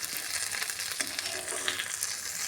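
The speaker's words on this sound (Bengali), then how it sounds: "চিংড়ি মাছটা ভাজা করে নিচ্ছি।" Prawns fry in a pan for a bottle gourd and prawn curry, a steady close, crackling sizzle with quick spits and no talking.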